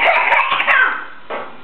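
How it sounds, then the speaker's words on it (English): A child's exaggerated, forced cough, a close and loud raspy burst followed by a second shorter hack. "I don't think you need to exaggerate your cough."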